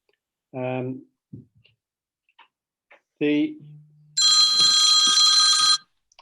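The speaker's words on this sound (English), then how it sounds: "Sorry, that was my phone" A mobile phone rings during a city council planning meeting, a loud steady electronic tone lasting about two seconds, preceded by a couple of short bursts of speech and a few soft clicks.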